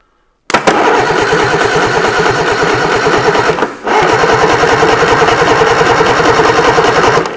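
A Reliant Supervan engine being started, a loud, close, rapid rhythmic chugging of the engine turning over that breaks briefly partway through and then resumes steadily.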